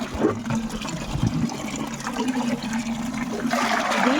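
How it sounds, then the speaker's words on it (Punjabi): Water gushes and splashes into a bucket in a steady rushing stream, rising slightly toward the end. "ਹੁਣ ਆਪਾਂ ਇਹਦੇ ਵਿੱਚ ਪਾਣੀ ਪਾ ਲਈਏ"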